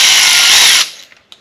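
A power drill drilling through metal during rust repair on a 2002 Ford F350 whines at high speed for under a second, then stops abruptly, followed by a couple of faint clicks.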